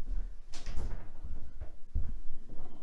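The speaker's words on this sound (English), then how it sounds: "Shut my fridge door." A kitchen fridge door swings shut with a dull thud and rattle, followed by a second softer bump, close by over room noise.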